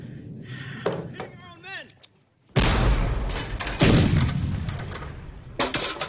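Heavy gunfire in a World War I battle scene, a loud sustained burst of shots and blasts following shouted voices, with more shouting layered over the firing.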